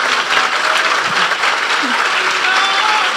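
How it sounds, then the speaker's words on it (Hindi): A church congregation claps loudly for Jesus at a Resurrection Day service, a dense continuous wash of applause with faint voices mixed in beneath. "यीशु के लिए जोरदार तालियां बजा दो।"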